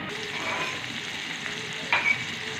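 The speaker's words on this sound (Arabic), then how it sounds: "هنشوحه كده ونحط عليه الطماطم" Food sautés in a pan ahead of adding tomatoes, a close, steady frying sizzle with stirring, and a brief brighter scrape or clink near the end.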